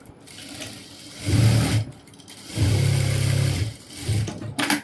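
Sewing machine stitching along the folded edge of a trouser pocket, running in three loud bursts of steady whirring with short pauses between, up close with no talking.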